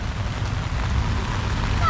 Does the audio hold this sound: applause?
no